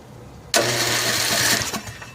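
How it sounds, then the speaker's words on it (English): A lawn tractor's engine is spun by its starter, powered straight from a battery charger, giving a sudden loud mechanical whirring cranking that runs steadily for over a second, then stutters and fades. "I finally put the battery charger direct on the starter because I think I fried the solenoid now. And it's turning the engine."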